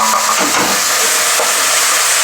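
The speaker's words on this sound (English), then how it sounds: "the onion's been cooking for about 8 minutes now on a very low gas" Onions frying on a gas stove over a very low flame give a steady, close sizzle and hiss that stays even throughout, with faint stirring touches and no talking.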